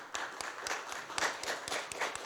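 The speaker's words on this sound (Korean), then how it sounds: "우리 박수 좀 보내주세요." A small church congregation claps together during a Sunday service, a brief and fairly faint round of applause with irregular, overlapping hand claps.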